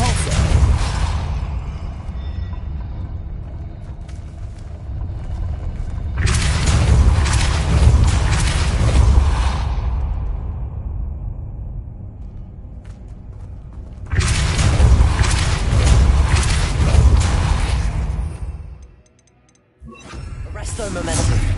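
A Depulso spell blast in a video game, heard as two loud, sustained whooshing booms separated by a quieter rumbling stretch, close and forceful.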